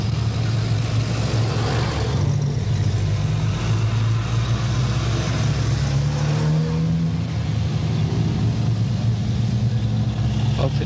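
Holiday road traffic on a road along a 1984 half marathon course: a continuous low engine rumble with vehicles passing close by and swelling and easing at times, loud and unbroken for the whole stretch.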